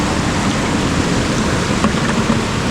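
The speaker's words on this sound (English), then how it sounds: "and you transfer it into your now sort of clean water bottle" Water poured from a large bottle into a smaller, freshly cleaned water bottle on a Grand Teton climbing trip, a steady, close gurgling splash that runs continuously without pause.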